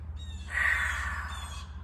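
Noisy crows calling outdoors, a harsh drawn-out caw that rises and holds for about a second over a low steady background hum.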